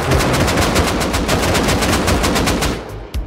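An AK rifle in the game Rust fires in a long, rapid automatic burst of loud, sharp cracks packed tightly together, running nearly three seconds before a final isolated shot.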